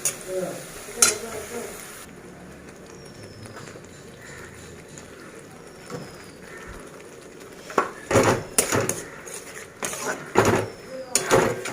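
Onion and spices fry in a pan with a soft, continuous sizzle, broken later by a run of sharp clatters and scrapes from stirring.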